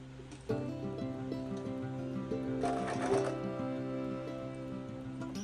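Sewing machine stitching a Native American man's ribbon vest: a steady, close mechanical whir with a humming motor tone that runs continuously, briefly brightening midway, with no talk over it.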